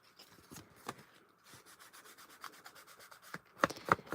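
Paper is rubbed with an ink pad along a folded edge in a craft session, giving soft, close scuffing strokes in irregular bursts, with a few sharper rubs near the end.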